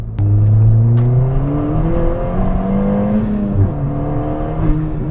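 A Ford Fiesta ST with track upgrades drones at low RPM inside the cabin, a deep, steady engine hum with rising and falling harmonics as the revs shift slightly, close and loud with no talking.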